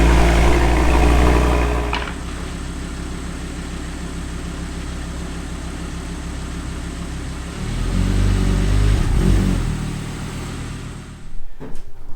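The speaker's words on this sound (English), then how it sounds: "This exhaust sounds great." An Audi R8's exhaust roars deep and loud, idling steadily between two revving surges, the second swelling before the engine cuts off.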